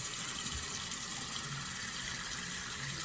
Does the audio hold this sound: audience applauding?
no